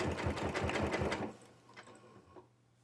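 A sewing machine stitches fabric tubes for a straight jelly roll rug, running in a fast, even whir for about a second before stopping, leaving faint handling noises.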